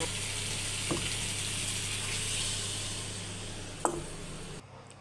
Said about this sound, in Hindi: अब इसे अच्छे से भूनना है